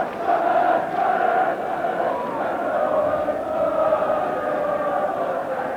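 Football crowd at a Sunderland versus Liverpool match chanting "you only sing when you're losing", a loud, sustained sung chant from many voices filling the stadium without a break.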